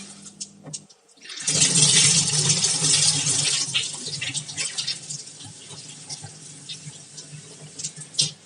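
Running water splashes over two bowls of urad dal being rinsed and rubbed clean, a steady rushing pour that swells loud near the start and then eases into softer sloshing and trickles.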